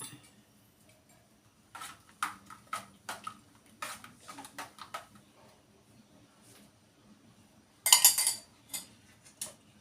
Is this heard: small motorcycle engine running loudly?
no